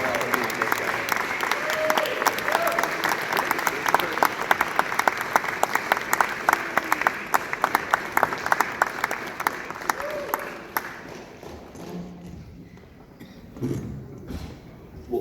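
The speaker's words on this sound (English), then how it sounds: "let's have one more round of applause here for those four" A film festival audience applauds the film's four guests after a screening, with sustained clapping and a few whoops that fade out in the last few seconds into a quiet room with faint voices.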